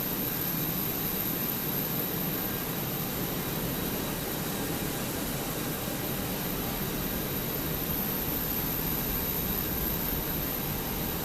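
A JetBlue Airbus A321's jet engines in Microsoft Flight Simulator 2024 give a steady, even roar with broad hiss, holding level and unbroken throughout with no talking.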